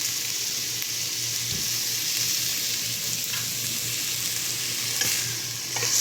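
Chopped garlic sizzles steadily in hot oil in a pan while a utensil stirs it, a continuous frying hiss punctuated by a few scraping strokes, with a low background hum.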